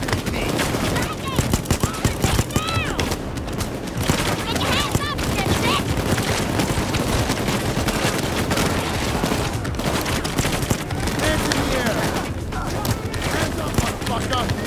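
Dense, sustained automatic gunfire from a Payday 2 heist raid on an FBI building, with rapid overlapping bursts and booms filling the whole stretch, continuous and loud, with voices talking underneath.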